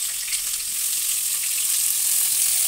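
Sliced onions hit hot tempering oil in a pan, producing a steady, bright sizzle that carries evenly throughout without any voices.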